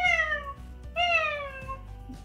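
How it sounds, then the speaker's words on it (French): A cat gives two clear meows in a row, the second slightly longer with a drawn-out, falling pitch, close and fairly loud with no talking. "Et un petit miaulement"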